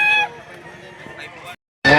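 Chickens call at a livestock auction market in Lipa City, Batangas, with a brief crowing, honking cry at the start and another burst at the end, over a low background of voices.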